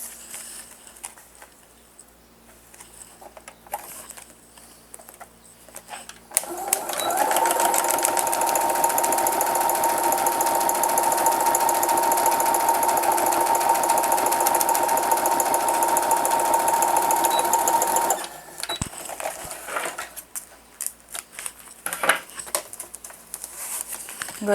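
Sewing machine stitching a scallop-shaped fabric wallet in one long continuous run of about twelve seconds, close and steady, with quiet handling noise before and after.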